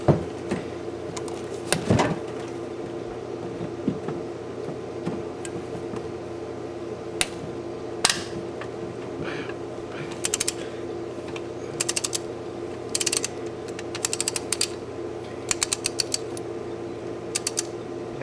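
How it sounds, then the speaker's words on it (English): A wrench on a brazed extension rod ratchets and creaks while loosening engine head bolts, giving scattered clicks with a sharp clank early on and then quicker runs of ratcheting clicks toward the end. "let's see whether or not I can get these head bolts off here"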